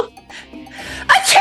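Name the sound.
person imitating a sneeze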